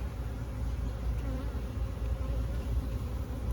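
Honeybees at an open hive during a check of a swarm and a split: a dense, continuous close buzz of many bees, steady throughout with no talk.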